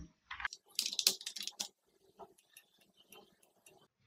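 Keystrokes on a computer keyboard while a name is entered into a CV document, a dense burst of clicks in the first second and a half, then sparse, quieter taps trailing off.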